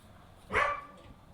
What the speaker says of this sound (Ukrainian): Ми словили собачку, беремо двор крові